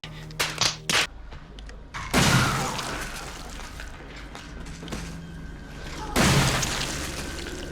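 Shotgun blasts in the survival horror game Resident Evil 7, two heavy booming shots a few seconds apart, each followed by a long rumbling decay, with sharp clanks and mechanical clicks before the first blast.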